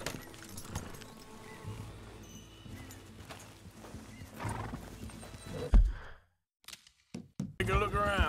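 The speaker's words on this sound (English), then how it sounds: "That's a healthy-looking horse." A horse in Red Dead Redemption 2 snorts and whinnies among soft hoof clops and ambient game sounds, fairly close, with a brief drop to silence near the end and a voice speaking in the background.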